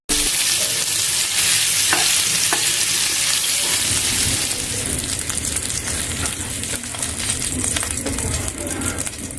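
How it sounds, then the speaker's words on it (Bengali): Pieces of fish fry in a pan until golden brown, giving a loud, continuous sizzle and crackle with occasional scrapes and clinks as they are turned and stirred. "মাছগুলো একটু উল্টিয়ে পাল্টিয়ে গোল্ডেন ব্রাউন করে আমি ভেজে নিচ্ছি।"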